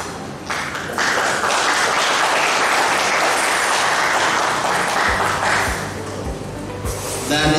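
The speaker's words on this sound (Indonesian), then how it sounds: "Kenapa kita harus beri tepuk tangan?" A crowd applauds at an anniversary celebration for YPMAK in Papua. The clapping is dense and sustained for several seconds, tapers off, then swells again, with a few low thumps underneath.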